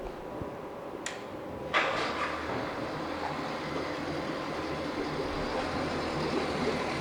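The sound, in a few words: 1997 Honda 75hp four-stroke outboard boat motor starting and running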